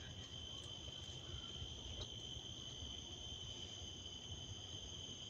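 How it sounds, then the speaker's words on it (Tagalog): Crickets chirp along a mountain trail at Sentosa in Singapore, a steady, shrill, continuous chirring that holds unbroken throughout, quiet and with no voices. "Kuliglig yata sa Tagalog."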